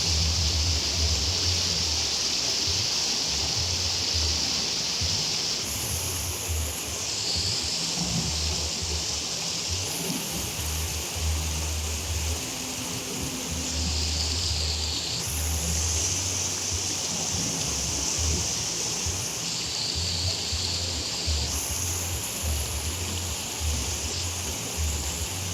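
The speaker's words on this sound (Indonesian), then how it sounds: "Bukan di Sungai Garoga, ini Sungai Batang Toru." The Batang Toru river in Taman Sari still running fast after a flood, a constant loud rushing water roar with a low rumble underneath, steady throughout with no talk.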